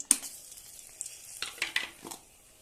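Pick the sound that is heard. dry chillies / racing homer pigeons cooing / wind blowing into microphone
dry chillies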